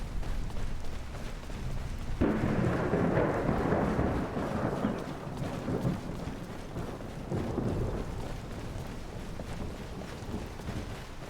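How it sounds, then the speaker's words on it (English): Rain pours over a rumbling storm in the Skyrim video game. A dense, continuous wash swells louder after the first couple of seconds, then eases slightly and stays steady, with no talking. "Just the gentle sound of walking and rain and such."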